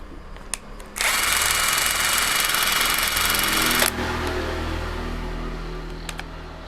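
A Total TIRLI2002 cordless impact driver runs at full speed for an RPM test, a loud, steady high-pitched whir lasting about three seconds. It then drops to a lower, softer hum that continues to the end, with no talking.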